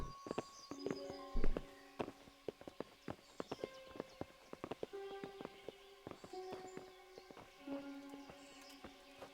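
Horses' hooves clip-clop at a walk in Kingdom Come: Deliverance, a steady run of sharp, close knocks with one heavier thud early on, heard alone over faint background ambience.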